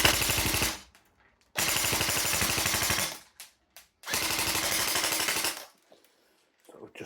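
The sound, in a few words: airsoft gun with Perun V3 Hybrid mosfet firing full auto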